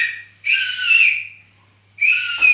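Two long, loud, clear whistled phrases close by, the first wavering in pitch before a short pause and the second beginning abruptly, with no talking.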